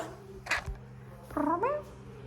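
A pet cat at a home window lets out two short, close meows, with a faint rustle and soft thump between them against a quiet indoor background.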